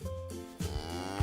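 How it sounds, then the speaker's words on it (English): A black and white cow lows in a long, drawn-out moo with a second rising call near the end, close and fairly loud with no talking. "Now we have a black and white cow."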